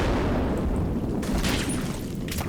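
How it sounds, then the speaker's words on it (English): Explosions from spotting rounds in the Combat Mission: Battle for Normandy war game, a dense continuous rumble of distant blasts with a sharper burst midway and another near the end. "some type of explosion. I think that's my own spotting rounds"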